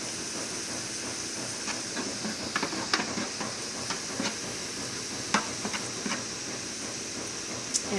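Orange chicken sauce made with soy sauce simmering in a pot: a soft continuous hiss broken by scattered small bubbling pops, quiet and close.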